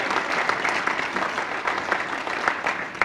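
A school groundbreaking audience applauds steadily, dense sustained clapping from many hands filling the room, loud and continuous.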